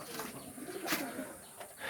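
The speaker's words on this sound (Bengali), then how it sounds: "রাজগোল্লা একটা পায়রা নর" Desi pigeons, including Rajgolla birds, coo at a pigeon farm, a low, steady murmur of calls set against constant background noise, moderately close, with no voices.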